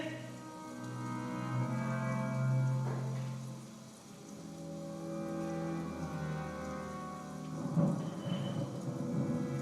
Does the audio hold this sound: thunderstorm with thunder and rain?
yes